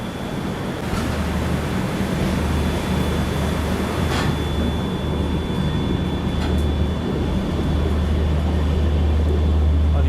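Delhi–Howrah Rajdhani Express rolling slowly through a station on a green signal, heard from on board as a steady, loud rumble with a low hum that runs unbroken and alone the whole time.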